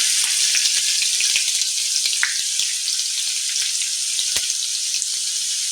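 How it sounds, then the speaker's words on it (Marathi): Mustard seeds, cumin, curry leaves and garlic paste fry in hot oil with a loud, continuous close sizzle and scattered sharp crackles and pops, no voices. "त्यानंतर तेल गरम झाल्यावर त्यामध्ये मोहरी, जिरं, कढीपत्ता, लसूणची पेस्ट"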